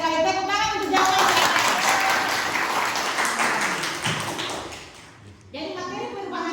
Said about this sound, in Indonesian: Tepuk tangan untuk jawaban.